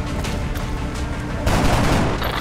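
Burst of rapid gunfire from soldiers in XCOM: Enemy Within, dense overlapping shots that swell louder in the second half, close and continuous with no talking.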